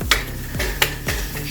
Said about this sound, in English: It's kind of hard to do this with a spatula, not make too much noise at the same time